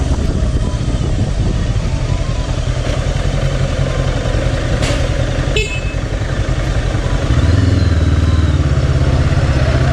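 A Gaokin Storr 500 motorcycle engine runs continuously nearby with a steady rumbling drone, a few brief clicks and knocks, and a deeper, louder surge near the end.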